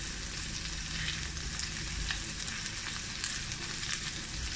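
Garlic fries in ghee in a pan for a keto cauliflower purée, giving a steady, close crackling sizzle throughout with no voices.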